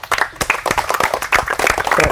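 An audience claps for a contestant at a fun competition, a short burst of irregular, close hand claps with no talking.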